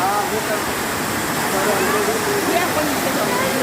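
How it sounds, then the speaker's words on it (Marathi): Kondeshwar waterfall near Badlapur, by a hillside temple, pours in a continuous rushing roar close by, loud and unbroken, with faint voices of visitors mixed into the water noise. "त्यांनी पण छान धबधबा"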